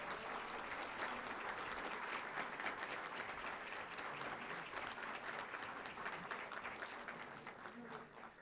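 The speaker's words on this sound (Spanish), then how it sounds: "Un aplauso para todos nuestros finalistas." A crowd applauds the finalists at the Premio Copé 2024 awards ceremony, sustained dense clapping with scattered individual claps standing out, slowly tapering toward the end, with some talk faintly beneath it.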